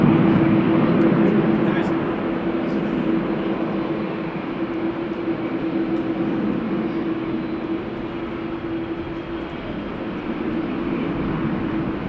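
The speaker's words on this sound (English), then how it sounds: "this is a medium Embraer taking off to Genoa." A medium Embraer jet takes off from Amsterdam Schiphol, its engines a steady broad rumble with a droning hum that eases slightly, while people talk over it.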